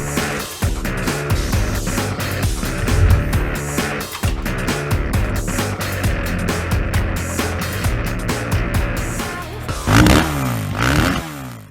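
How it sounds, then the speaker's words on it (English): KTM 300XC two-stroke dirt bike ripping around a motocross track, loud continuous engine with rising and falling revs, throttle blips and gear changes, heard close throughout. "let's take KTM Slovakia for a little motocross test."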